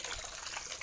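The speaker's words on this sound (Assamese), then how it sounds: "গৰম পানী লৈ গৰম পানী এতিয়া ইয়াত দি দিলোঁ পানী" Hot water poured into a pot of Assamese fish curry (maachor jul) cooking on a village stove, a short gushing, splashing pour heard close up with no talking.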